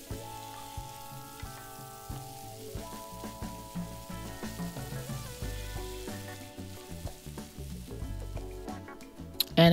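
Vegetables sautéing in olive oil and butter for a classic beef stew, a steady close sizzle broken by repeated stirring clatters and scrapes, with no voices.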